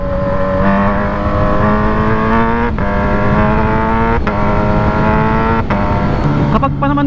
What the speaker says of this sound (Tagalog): Kapag pa naman umiinit ang motor, lalong umiingay yung tambucho.